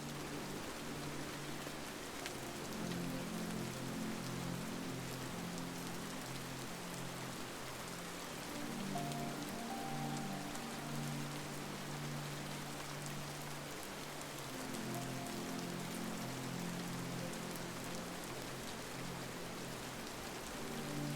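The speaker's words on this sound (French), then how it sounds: "Et cette pluie continue de tisser autour de vous" Steady rain falls continuously, a soft even hiss of drops on surfaces with a gentle low rumble beneath, unbroken and calm throughout.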